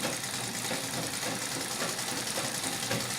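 A Singer 31-15 industrial sewing machine mounted in a treadle does free motion quilting, giving a steady, close, continuous mechanical whir and rapid stitching clatter with no talk.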